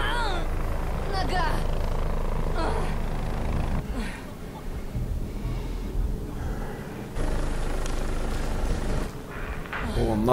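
A helicopter in the video game The Division thrums continuously beneath a dense mix of gameplay sounds and effects, loud and close throughout.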